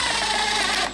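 A power tool buzzes continuously up close as it drives screws back into a VW MK6 Golf side mirror during a sequential turn signal install.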